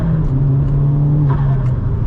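A Vauxhall Astra VXR pulls hard on a night drive, its engine droning steadily with a rising, throaty tone heard from inside the cabin, with no talk.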